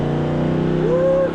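A 1978 Ford F250 pickup with a Coyote V8 and a TR4050 transmission driving and moving up through the gears. The engine drones loudly and close, its pitch climbing at the end of a short burst.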